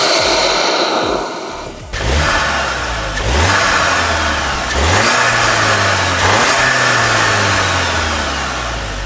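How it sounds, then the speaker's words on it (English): A VW MK8 GTI fitted with an Integrated Engineering intake revs repeatedly, each rise in turbo induction noise loud and close, with whooshing surges and drops between pulls and no talk over it. "we will be gaining performance and induction noise like this"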